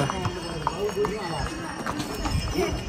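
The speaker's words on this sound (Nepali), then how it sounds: "घोडाहरू" Horse hooves clip-clop in an uneven, steady patter at Muktinath Temple in Mustang, Nepal, while people talk nearby over a background murmur.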